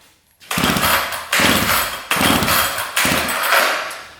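A chainsaw starter cord is yanked four times in a row, each pull a loud, rattling whir lasting under a second, close by.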